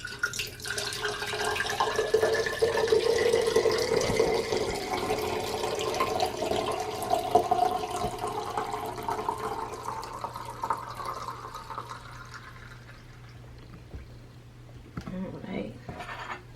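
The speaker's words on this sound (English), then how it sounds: "I transfer it back into the blender, so it'll be easy because it got a spout that I can pour it into." Beet-carrot-orange juice pours in a continuous liquid stream into a blender for several seconds, the splashing gurgle tapering off before a few soft clinks at the end.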